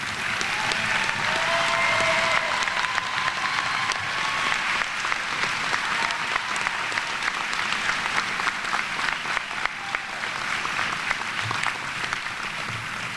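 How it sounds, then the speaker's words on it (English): Sustained audience applause at a university graduate commencement, steady dense clapping from a large crowd as faculty stand to be recognized, continuing evenly throughout. "I want to give tonight's graduates gathered here the opportunity to recognize those faculty with their applause"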